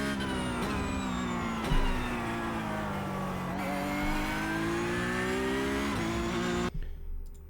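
A Porsche GT3 Cup race car engine in the iRacing game at Hockenheimring revs hard, climbing through gears with sharp shifts, loud and close, before cutting off abruptly near the end.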